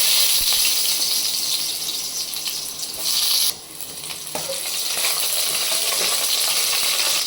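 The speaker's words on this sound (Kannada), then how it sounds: "ಫಸ್ಟು ಈಗ ಬೆಳ್ಳುಳ್ಳಿ ಹಾಕೋಣ" Garlic sizzles in a hot pan of oil while cooking a chicken liver and gizzard fry masala, a steady hiss with a brief dip as pieces are added, then the frying noise builds back up.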